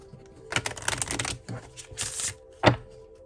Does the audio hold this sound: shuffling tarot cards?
yes